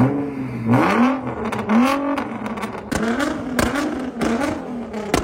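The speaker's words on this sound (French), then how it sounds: "On est parti pour un essai routier, petit démarrage, légèrement, parce qu'avec les pots en titane, je pense qu'on va arracher toutes les fenêtres aux alentours." A Nissan GT-R fitted with a titanium exhaust pulls away on a road test, its engine revving up and dropping between gear changes in repeated loud, rising bursts, close by with no voices.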